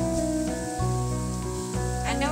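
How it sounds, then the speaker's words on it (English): Soy-based dipping sauce for hot pot, with optional chili, bubbles and sizzles in a pan, a steady close hiss with brief stirring scrapes and no talk. "the sauce is boiling."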